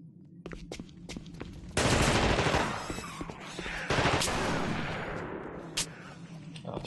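Rapid bursts of gunfire and explosions from the video game The Thing, with loud heavy volleys that swell, fade and return, plus scattered sharp single shots and no talk.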